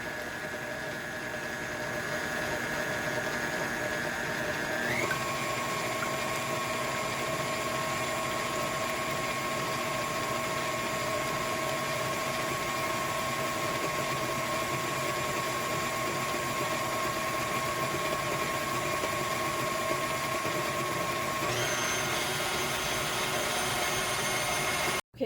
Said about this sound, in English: I'm going to beat this until I get soft peaks formed